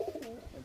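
Sarangpuri pigeon giving a soft, low coo, brief and faint and heard close by in a quiet setting.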